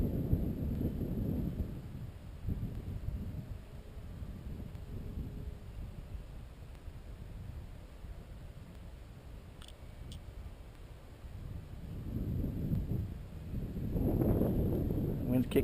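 Gusty wind at an outdoor flying field where a 1300mm FMW Sbach 342 model plane is being flown. The wind buffets the microphone as a low, rumbling roar that swells in strong gusts near the start and end, with someone talking over it.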